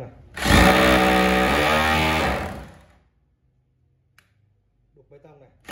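A three-function concrete hammer drill set to chisel concrete runs loud and close for about two seconds with a buzzing, rattling motor tone before winding down into silence and a few faint noises.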